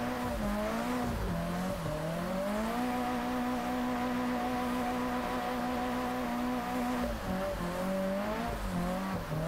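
A car drifting in Japanese Drift Master, its engine holding a steady loud revving drone that rises and dips with throttle changes, continuous and close throughout.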